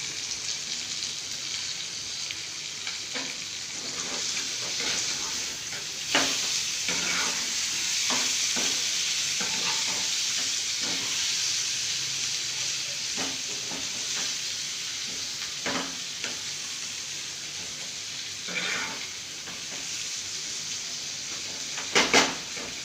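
Steady sizzling of masala fish frying in a pan, with a spatula scraping and stirring at irregular intervals throughout, close and continuous.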